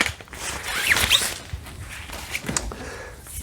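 A zipper on the PVC carry bag of a MiFine Surf Hunter beach casting sea fishing rod is pulled open in one close, quick rasping run, with a few soft handling rustles after it.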